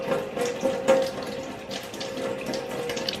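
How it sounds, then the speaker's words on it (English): Tap water runs steadily into a sink while a makeup brush is rinsed under the stream, a soft continuous splashing at moderate level with slight surges as the bristles move through it. "Open the water."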